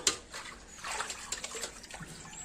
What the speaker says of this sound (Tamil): நல்லா அலசி போடுறான்.